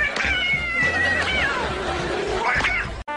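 A cat meows loudly and close up in a long, drawn-out wailing call that rises and falls, then a second shorter cry near the end.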